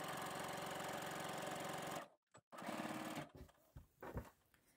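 Sewing machine running steadily while stitching a denim flat fell seam, a loud continuous mechanical whirr for about two seconds before stopping, followed by brief handling clatter.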